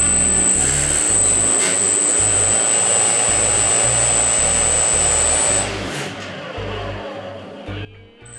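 A homemade 300-watt PC case fan spun to about 14,000 RPM, built from a motor bolted through a fan onto an old dusty case, roars with a loud steady jet-like whine and rushing air that eases off near the end.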